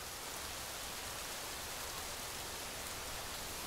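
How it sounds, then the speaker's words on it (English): Steady hiss of rain pouring in the survival building game Rising World, a dense, even wash of falling water with no pauses or voices. "Here comes the rain."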